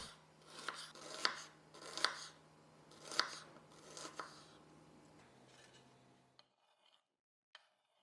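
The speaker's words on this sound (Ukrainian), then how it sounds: "Цибулю нарізаю полукільцями" A knife cuts an onion into half-rings on a board, with quiet crisp rasping slices in an uneven series of about seven strokes, close and alone, then a few faint knocks.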